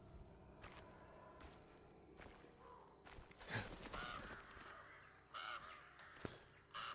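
Birds caw in the video game Alone in the Dark (2024), giving a few scattered harsh calls that stand out after the midpoint over a low dark ambient bed, with some soft footstep-like thuds and a sharp crack.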